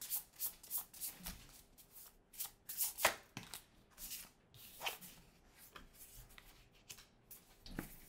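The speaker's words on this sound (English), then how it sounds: "Let me pull one more oracle card." An oracle card deck is shuffled and handled up close, giving a quiet series of crisp riffling and sliding bursts in an irregular rhythm.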